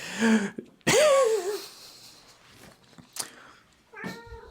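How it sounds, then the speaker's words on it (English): A cat meows twice, loud and close, with a drawn-out wavering second call, followed by a stretch of faint rustling and one last softer, shorter meow. "Meow."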